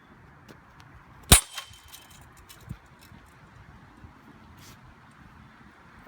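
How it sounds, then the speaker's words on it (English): A falchion sword blade strikes a 14 gauge steel helmet once, a sharp loud metallic crack followed by a faint ringing decay over quiet outdoor background noise. "we've got a 14 gauge steel helmet, and we're gonna try it against what it's made to protect against, an actual sharp blade"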